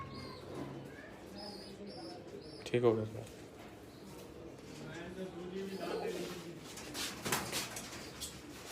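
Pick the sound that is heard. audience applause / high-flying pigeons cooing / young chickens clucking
high-flying pigeons cooing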